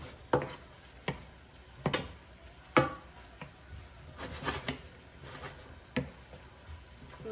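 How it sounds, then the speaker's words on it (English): Browned pork with onions, garlic and ginger stirred together in a pan, with irregular scraping clacks and soft sizzling between them, close and fairly quiet, no talk. "Now I can mix them all together."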